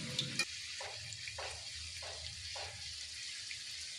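Cabbage pakora fritters frying in hot oil, turned over and over, give a steady sizzling hiss with a few soft bubbling bursts and light clinks near the start.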